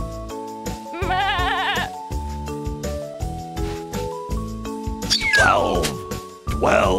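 A cartoonish goat bleats in a lively children's game scene, with wavering cries rising over bright musical tones and a sliding whistle-like sweep near the end.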